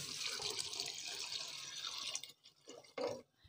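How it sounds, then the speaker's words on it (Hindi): Hot water pours steadily into a pot of masoor lentils for about two seconds, then stops, followed by a few brief splashes and drips nearby. "तो अभी हमने पानी गर्म किया हुआ है, वो डालेंगे इसमें।"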